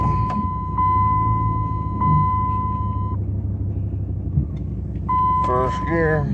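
A 2002 Ram 4x4 truck idles with a low, steady engine rumble while a high cab chime beeps on and off in long tones, and a voice is heard briefly near the end.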